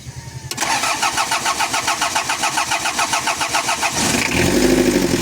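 A car engine cranking with a rhythmic, pulsing starter whir for several seconds before catching and firing into a louder running idle, heard up close.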